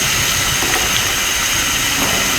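Bread pizza rolls fry in hot oil and ghee, a loud, dense and continuous sizzle that holds steady from start to finish with no pauses, heard close up.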